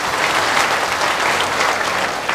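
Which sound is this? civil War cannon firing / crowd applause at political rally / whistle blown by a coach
crowd applause at political rally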